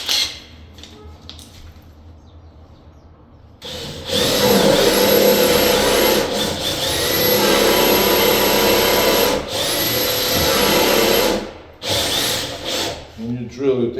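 A power drill bores into a door during installation of a Simplex 7000 mechanical deadbolt, starting after a few quiet seconds and whirring loudly and close for about eight seconds with brief pauses and changes in pitch.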